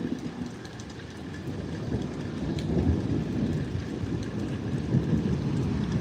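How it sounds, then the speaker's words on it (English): A deep rumble of thunder rolls and builds over steady rainfall. "I don't know if you guys can hear the thunder or just see it, but it's pretty loud as well."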